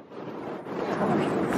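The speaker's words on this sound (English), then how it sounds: "It's so blowy." Wind gusts buffet the microphone on Cadair Idris, a mountain in Wales, as a rough low rumble that swells and strengthens over a brief moment.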